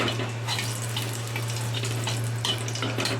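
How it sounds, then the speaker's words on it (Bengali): Cumin seeds and dried red chillies fry in hot oil, a close continuous sizzle with scattered crackling bursts over a low steady hum, no talking. "জিরেটা আর লঙ্কাটা ভাজা ভাজা হয়ে যাচ্ছে"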